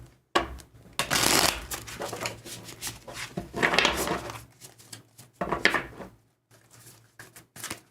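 Tarot cards being shuffled by hand during a reading, with several quick bursts of riffling and flicking separated by short pauses, fairly close and soft, with no talk over it.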